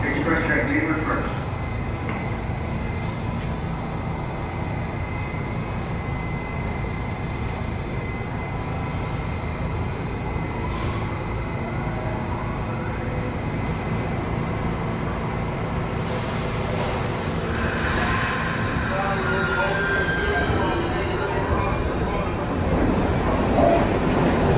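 A New York subway train pulls out of 59 St station on the express track, a steady rumble and rail noise running throughout with a rise in screech near the end, while a voice speaks over it.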